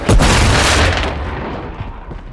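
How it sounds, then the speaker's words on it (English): Flash grenade in Call of Duty MW3 bursting with a loud, close boom that decays into a rumbling tail over about two seconds, with no voices. "Throwing flash grenade!"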